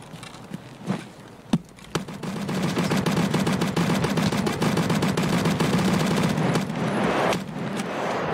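Enemy gunfire in a video game: a few sharp separate shots, then a sustained, loud rattle of automatic fire that goes on for several seconds before easing off, with more scattered shots around it.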